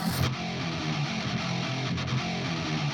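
A distorted 8-string electric guitar plays a steady, dense riff in a sound-design piece, loud and continuous for about three seconds with no voices.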